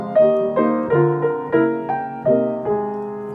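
Piano keys struck with a light touch and not pressed to the bottom, giving a series of soft, thin jazz chords in a gently pulsing rhythm, each decaying quickly, with no voice.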